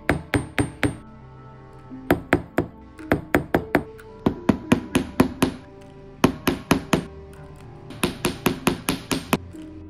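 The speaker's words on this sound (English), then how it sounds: "for others, I'll want to use a steel hammer so that it looks a little more damaged." Steel hammer tapping on miniature metal swords for a model Iron Throne, striking in quick bursts of three to six sharp, ringing metallic blows with short pauses between, close and clear with no talking.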